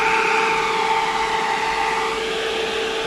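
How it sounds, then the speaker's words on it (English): A 12 V DC air conditioner under repair with a freshly changed compressor. A steady whirring hum with sustained tones runs continuously and close, its pitch dipping slightly near the end, with no talking over it. "now the compressor tried to start again"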